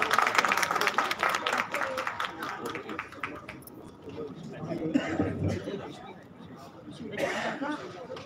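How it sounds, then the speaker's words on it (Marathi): An audience at a state-level teachers' award ceremony applauds, with dense clapping at the start that thins into murmuring, coughs and scattered claps, then swells again briefly near the end. "जोरात टाळ्या वाजून एकदा पुन्हा एकदा."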